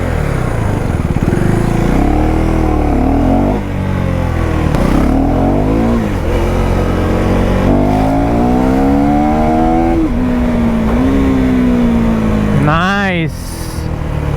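A newly delivered motorcycle revs and accelerates up close through repeated gear changes, pitch climbing and dropping in waves, with a sharp high rev burst near the end.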